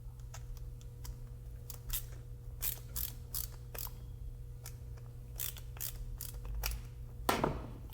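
Close, dry ratcheting clicks from tightening a Planet Waves solderless right-angle RCA plug, arriving as irregular bursts of short ticks over a steady low hum, with a louder scrape near the end.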